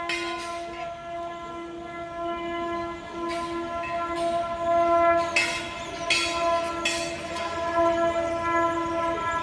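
A train passes near a station in Guskara, its horn sounding as a long, steady tone through the whole stretch, with brief rail clatter and rumble bursts rising beneath it. No voices.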